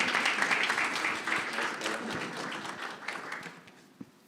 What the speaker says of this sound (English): One more round of applause for Odinson.